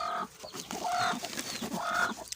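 A brooding country hen sitting on a clutch of eggs gives short, repeated clucks close by, in soft bursts separated by brief pauses, with faint background rustling.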